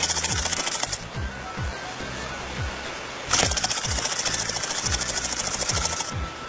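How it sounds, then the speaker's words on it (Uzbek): A kick-started motorcycle engine chugs close by in a steady, rapid rhythm of thumping pulses, with a brief dip in loudness before it runs on strongly again. "Az motorni tepdim."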